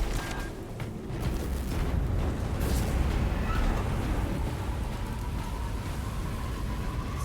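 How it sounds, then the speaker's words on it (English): A rumbling explosion in the video game Space Marine 2 rolls through a dense, noisy battlefield mix, with crackling debris and low booming that sustains for several seconds and no clear speech. "Immediately after that explosion."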